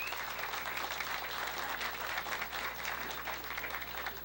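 An audience at the 2006 Jack's Surfing Walk of Fame ceremony claps in a continuous, even round of applause. It sounds moderately distant, with no single claps standing out.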